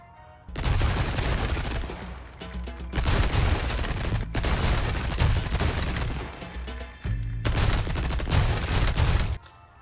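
Sustained bursts of submachine gun fire in Resident Evil 4 Remake, loud and dense, running in long continuous strings broken by a couple of short pauses.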